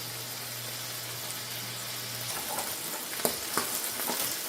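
Salmon frying on high heat in a hot pan, a steady soft sizzle with occasional small pops and crackles near the end, heard alone without talk.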